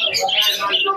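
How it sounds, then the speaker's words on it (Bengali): Pigeons at a pigeon market in Krishnanagar, Nadia, with brief bird calls and chirps heard up close over a moment of market noise. "দেখুন কবুতরটা, দেখুন খুবই সুন্দর কোয়ালিটির কবুতর আছে।"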